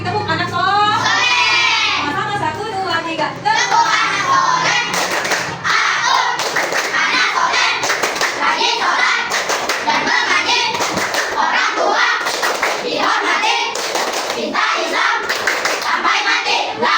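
Children in a primary school classroom clap a rhythmic chant together, steady bursts of hand claps repeating for the whole stretch, loud and close, with young voices mixed in.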